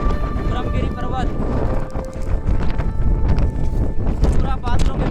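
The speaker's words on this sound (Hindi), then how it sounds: "बहुत तेज हवा है हरियाणा चोटी पे, ब्रह्मगिरी पर्वत" Strong mountain wind buffets the microphone on the cloud-covered Brahmagiri peak near Trimbakeshwar, a loud continuous roar with gusts, while a person talks over it.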